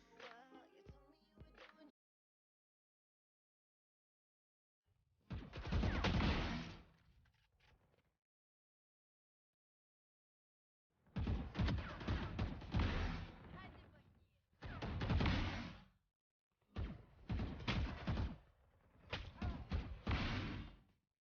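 Gunfire from a shooter video game during aim practice, heard as several loud, dense bursts of shots separated by silent gaps, with a Turkish-speaking voice talking over the shots.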